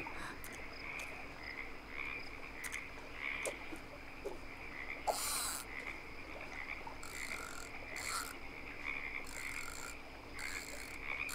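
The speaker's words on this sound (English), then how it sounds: "See if we get some frogs." Frogs croak in a video game fishing scene, a steady chorus of repeated rasping calls over a soft ambient bed, with a few louder bursts standing out, and no talking.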